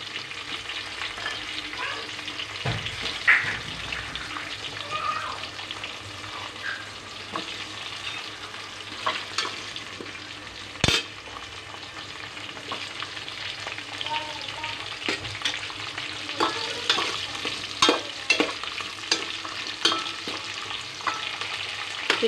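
Drumsticks sizzle in hot oil for sambar, a steady frying hiss with frequent spatula scrapes and clinks against the pan, one sharp metallic knock standing out midway.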